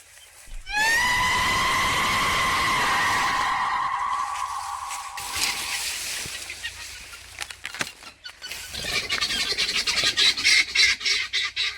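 A turkey gives a loud, drawn-out squawking call close by, followed by scattered rustling and more turkey noises.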